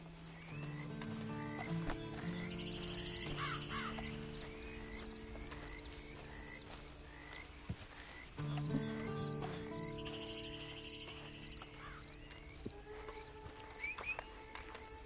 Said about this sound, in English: Then you better get on this horse.